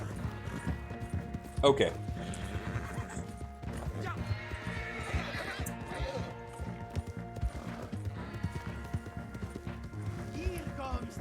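A horse in Red Dead Online, hooves clip-clopping and a neigh under frequent talk, with game music and the odd thump in the background.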